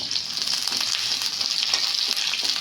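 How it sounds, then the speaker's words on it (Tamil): Onions sizzle and fry steadily in hot oil with mustard seeds and fenugreek for a spicy sambar, a dense bright crackle with occasional stirring, close and continuous with no voices. "இது ஸ்டேஜில் வெங்காயம் போட்டுக்கோங்க."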